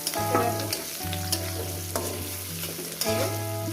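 Salted food frying in a pan, a loud continuous sizzle with a steady low hum and brief stirring scrapes, without any talk.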